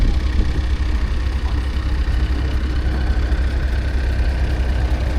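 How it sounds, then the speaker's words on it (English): A McLaren Mark 1 oil engine, an old stationary generator engine, runs steadily at a steam rally, its loud, even low-pitched chugging continuing without a break throughout. "McLaren Mark 1 oil engine."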